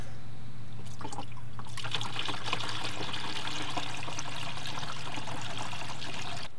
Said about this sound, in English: And for the reservoir, I'll go ahead and fill it up to the full mark.